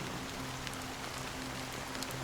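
Rain falls steadily in the video game Honkai: Star Rail, a dense even hiss of drops with a faint low hum beneath, no voices.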